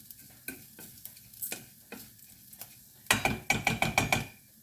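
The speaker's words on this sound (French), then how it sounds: "J'imprègne le riz avec l'ail et le gingembre." Rice with garlic and ginger being stirred in a frying pan, with intermittent scraping strokes over a low sizzle, then a faster burst of rapid rhythmic scraping near the end, close and fairly quiet.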